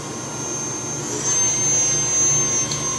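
A Doosan Puma 2000SY multi-axis CNC turning center from 2008 with its sub-spindle spinning up to 2,000 RPM, a loud steady machine hum with a high whine that rises and holds.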